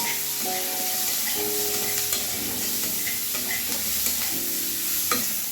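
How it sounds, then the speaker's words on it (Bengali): Onion, garlic and green chilli frying with a little salt in a pan, a steady close sizzle with occasional stirring scrapes and clinks throughout. "অল্প একটু লবণ দিয়ে দিলাম, তাড়াতাড়ি পেঁয়াজ রসুন ভাজা হয়ে যাবে।"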